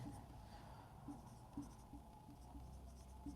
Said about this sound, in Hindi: दोस्तों अपन नेक्स्ट लिखते हैं